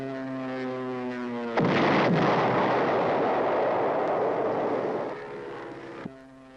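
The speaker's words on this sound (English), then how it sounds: "And finally came the dreaded napalm." A napalm bomb explodes in Vietnam War era footage: a sudden loud, broad roaring blast breaks in over a steady humming drone, rumbles on for several seconds, then fades as the hum returns.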